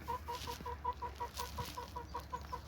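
A hen clucks in a steady, rapid series of about a dozen short, anxious-sounding calls, close and fairly loud over a low barnyard background, with no talking.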